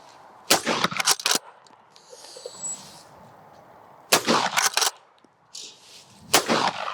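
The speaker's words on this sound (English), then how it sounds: "Right, let's shoot it." Winchester pump-action shotgun firing outdoors, with several loud sharp blasts in close bunches, each followed by brief echoes and mechanical clacks between the shots.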